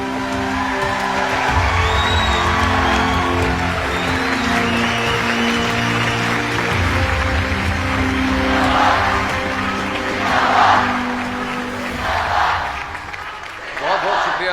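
A large audience at a Pakistan Air Force ceremony claps and cheers under a loud announcer-style voice, applause swelling in waves and peaking near the end.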